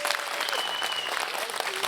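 Conference audience giving steady, dense applause through a large hall, with sustained clapping from many hands and faint crowd voices mixed in.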